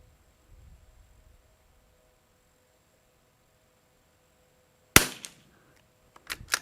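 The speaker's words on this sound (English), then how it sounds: "I'm going to fire one more." A single sharp crack from a rimfire rifle, CZ452 Varmint or Savage MKII TR, after quiet, followed by a short echo and a few faint clicks and knocks.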